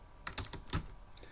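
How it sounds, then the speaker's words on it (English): Quiet clicking of a computer keyboard while entering data into a Microsoft Access database form, a short burst of several uneven keystrokes close to the microphone with a brief pause before two final taps. "when I very first start typing"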